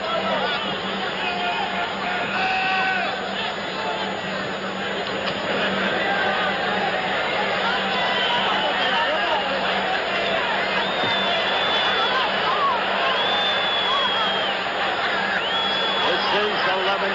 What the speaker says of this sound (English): The crowd roars incessant.